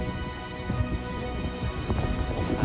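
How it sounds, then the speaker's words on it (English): Rain falls outdoors at a rear garden in Melksham, a steady dense patter with gusty wind buffeting close by, fairly loud and continuous with no voices. "There's a bit of rain as well today."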